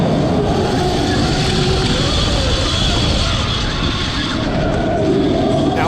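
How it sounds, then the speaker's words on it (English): Zero FX electric motorcycle powering through turns on a dirt rally course, a loud close whir mixed with wind rush and gritty tire noise, steady throughout. "my ride is a whiz as I power up the turns, then a grinding of the dirt as I jump on the brakes."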